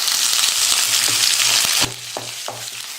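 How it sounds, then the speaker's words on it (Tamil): Chana dal with dried red chillies and curry leaves frying in hot oil for beetroot rice: a loud, dense sizzle that drops sharply midway, with a few spoon scrapes and clicks standing out. "கடலைப்பருப்பு நல்லா பொன்னிறமாக வர அளவுக்கு பருப்பெல்லாம் நம்ம வறுத்துக்கணும்."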